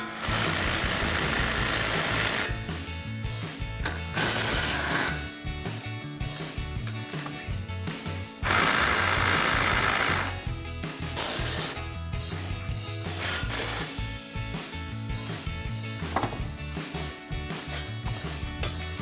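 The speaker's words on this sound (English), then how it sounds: "And we grab our impact and 15 millimeter socket," An impact wrench with a 15 mm socket removes the brake caliper bolts on a 2015-2025 Ford Mustang. It fires in loud, close bursts of rattling hammering, separated by brief pauses.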